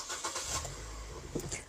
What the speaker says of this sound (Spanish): Vamos a hacer un poquito de práctica para que sintamos el clutch como corta y vamos a encender el carro.